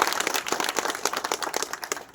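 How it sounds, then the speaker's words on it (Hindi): A village crowd in Desalpur claps to welcome a guest, a dense, continuous patter of many hands close by, with no talking over it. "एक बार जोरदार तालियों से स्वागत करें"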